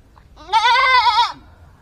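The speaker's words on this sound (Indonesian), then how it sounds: "Jadi masih menata kambing dulu." A goat being loaded in a rural village gives one loud, close, wavering bleat lasting under a second, with a faint outdoor hush before and after.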